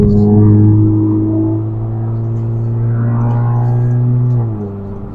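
A straight-piped Honda Civic with its muffler and resonator deleted, its exhaust droning in a loud, steady low rumble heard from inside the car, easing slightly in pitch before dropping off near the end.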